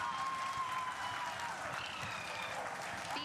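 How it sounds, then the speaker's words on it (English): A large crowd applauds steadily at the Chandrayaan-3 lunar landing, a dense, sustained wash of clapping heard from a slight distance. "People are applauding."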